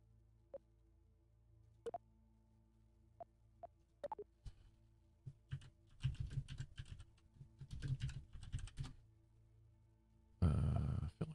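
Computer keyboard clicking: a few sparse, isolated keystrokes at first, then denser bursts of typing and a final loud flurry, fairly close in a quiet room with faint background hum.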